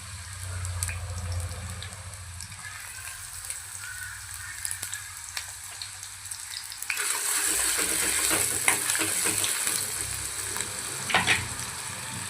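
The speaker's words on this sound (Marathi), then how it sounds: "यामध्ये सर्वात आधी ऑनियन कांदा टाकूया" Onion frying in a pan for Kolhapuri misal, a low hum first giving way to a louder, bright hissing sizzle with crackles and a few stirring knocks near the end, no speech.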